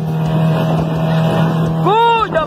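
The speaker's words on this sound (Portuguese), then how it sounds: "Ó, ó o barulho do motor." Boat motor drones steadily with a strong low hum and harmonics, close and loud, before a brief rising-falling whine near the end; wind buffets the microphone.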